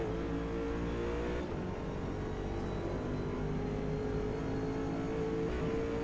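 A C8 Corvette race car in Forza Motorsport, S class at Le Mans, holds a loud, steady engine drone with a slight pitch change as it runs on.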